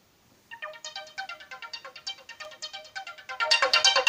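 A melodic ringtone plays loudly from the ZTE Axon 7 phone's built-in Dolby Atmos speaker, a quick run of bright repeated notes that keeps a steady pulse and swells louder toward the end.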